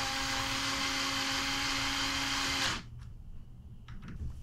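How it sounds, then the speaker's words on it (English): A power driver runs cap screws into an ebike, giving a loud, steady whirring drone for nearly three seconds before cutting off, followed by faint clicks and handling sounds. "Let's run in the screws."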